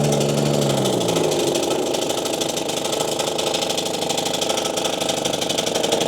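A RedMax CZT54X zero-turn mower runs loud and close with its blades engaged, a steady throbbing engine drone with rattling clatter as it strikes rocks underneath.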